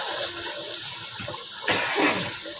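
Water is poured a little at a time into a pot of chicken chole as it is roasted, making a sudden loud splashing hiss partway through that follows quieter stirring and clatter.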